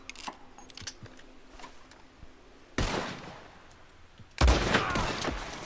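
Two loud, booming sniper rifle shots from Red Dead Redemption 2, each cracking out sharply and rolling into a long echoing tail, after a stretch of quiet outdoor ambience with faint clicks.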